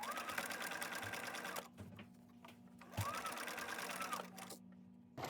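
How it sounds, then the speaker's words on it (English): A sewing machine stitches a ruffle onto a doll's underskirt in two quiet, steady runs of rapid whirring, separated by a brief pause. "Stitch your ruffle to the underskirt."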